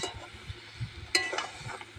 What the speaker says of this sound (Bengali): মশলা দিয়ে কষবো